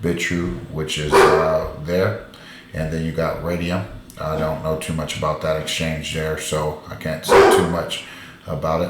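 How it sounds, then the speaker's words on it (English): A pet dog barks a few times in the background of a home where contractors are working, the sharp bursts sitting under a man's steady, close-up talking. "Excuse my dog barking in the background."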